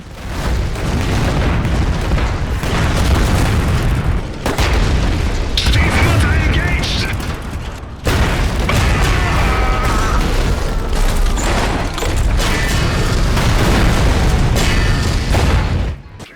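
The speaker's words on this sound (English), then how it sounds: "Units hiding behind walls or buildings are no safer, as the bombs can seek them out and home in on them." Homing bombs dropped by a Saxony Stiefmutter mech in the real-time strategy game Iron Harvest detonate in a dense, loud run of booming blasts and rumbling debris, with battle noise layered throughout and brief gaps around four and eight seconds.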